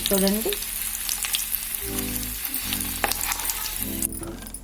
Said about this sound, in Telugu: ఊర మిరపకాయలు ఇప్పుడు వేసాను.